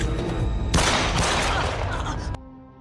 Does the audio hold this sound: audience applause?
no